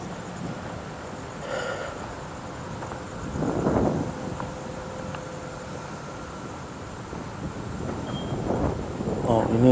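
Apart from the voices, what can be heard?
strong cold wind blowing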